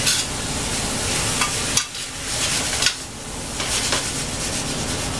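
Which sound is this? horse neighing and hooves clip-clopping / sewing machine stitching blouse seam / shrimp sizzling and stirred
shrimp sizzling and stirred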